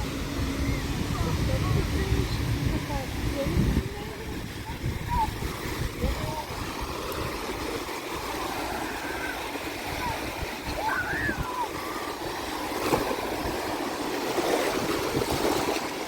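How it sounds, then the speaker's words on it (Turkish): Waves wash continuously onto a Bulgarian beach at Primorsko in the evening, a steady close roar of surf and splashing with small, frequent breakers. "Şu an biraz daha durulmuş ama daha sık dalgalar var."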